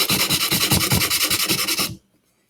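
A wooden project is sanded by hand with sandpaper in quick, even back-and-forth rasping strokes, close and clear, about a dozen rubs before stopping abruptly.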